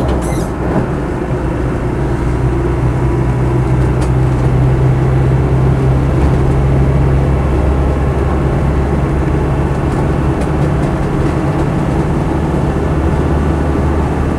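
Land Rover Defender 90 200Tdi hardtop on BFG all-terrain tyres driving along a road, a loud continuous cabin rumble of diesel engine and road noise with no one talking.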